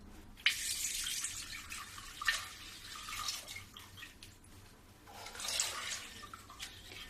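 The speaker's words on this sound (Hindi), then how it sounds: "अब इसमें मैं 2 किलो फुल क्रीम दूध में डालूंगी।" Full cream milk poured from a half-kilo bag into a pot for making rasgulla, a steady liquid splashing and trickling in several bursts, close and moderately loud with brief pauses between pours.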